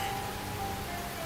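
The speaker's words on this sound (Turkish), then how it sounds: "Hem bahar yağmuru bu çabuk geçer." Spring rain falling outdoors, an even, continuous soft hiss of drops with no distinct thunder, heard alone and at a moderate distance.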